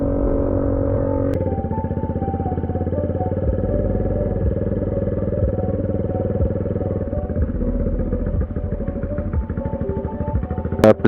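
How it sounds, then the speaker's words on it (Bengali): A motorbike ridden in Malaysia hums with a steady close engine drone and faint clatter for the whole stretch, with a brief rattle near the end and no voices. "আমাকে একটু এখন কনসেন্ট্রেশন করতে হবে বাইক চালানোর প্রতি।"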